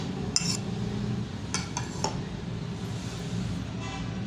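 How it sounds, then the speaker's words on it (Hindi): Chopped onion is tipped into a salad bowl, giving a few brief, close clinks and clatters of utensil against dish over a quiet kitchen background. "प्याज डाल दूँगी"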